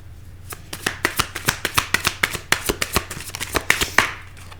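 A deck of tarot cards is shuffled close up, giving a rapid series of crisp riffling snaps in a fairly even rhythm over a few seconds, alone without talking.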